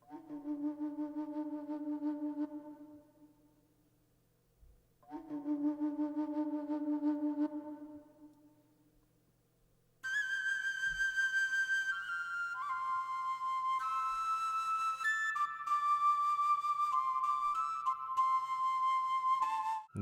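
Virtual flute in a Cubase session plays a medieval-fantasy village cue: two soft, low sustained phrases with gaps between, then a brighter, continuous higher melodic line of connected notes, quiet and clean with no talking.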